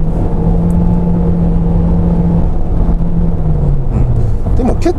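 Toyota Voxy hybrid minivan accelerating at around 100 km/h on an expressway, a loud, continuous cabin drone with a steady low hum whose pitch slides slightly downward late on, while a voice briefly speaks.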